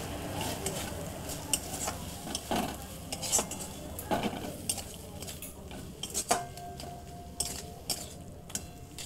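Eggplant and bean curry with ground coriander paste is stirred in a pan, with repeated clinks and scrapes of a metal spoon against the pot over a faint sizzle and a few faint, brief voice sounds.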